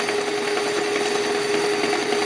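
9x20 metal lathe running at its top speed, a close, steady mechanical whir with a constant tonal hum and no talk.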